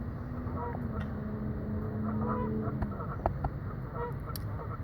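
Ducks quack and honk outdoors in a nature setting, scattered calls rising over a steady broadband background of wind and water, with a person talking faintly at times.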